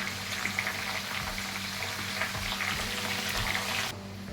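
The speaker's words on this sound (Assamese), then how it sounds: "মোৰ হাততে 7টামান চব্জি আছিলে সেইকেইটা গোটেইকেইটাই দি দিছোঁ দি ভালদৰে লৰাই দিছোঁ" Mixed vegetable curry frying in a pan while being stirred gives a continuous soft sizzle with faint scraping, steady and close throughout, cutting off abruptly near the end.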